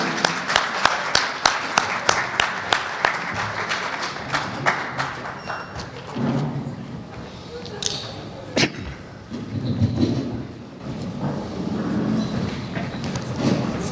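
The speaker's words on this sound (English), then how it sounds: "So without further ado, a huge round of applause." Audience applause at a community property presentation starts with sharp, regular claps that soon blend into a looser, quieter crowd clatter, with some voices and movement underneath.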